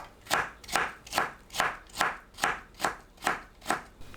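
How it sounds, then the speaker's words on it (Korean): A knife finely julienning beets knocks against a cutting board in about nine even, crisp chops, close and moderately quiet. "비트를 곱게 채 썰어 주세요."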